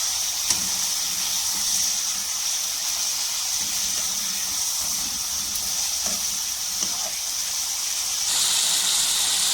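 Chicken frying with ginger and garlic in a karahi, a loud, steady close-up sizzle with a hissing wash that swells slightly near the end, with faint stirring scrapes and no talking.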